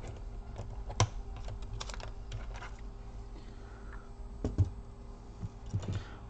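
Keyboard retaining clips on a Dell Vostro 15 3568 laptop are pried open with a sharp tool, giving scattered light plastic clicks and a few sharper snaps against a quiet background.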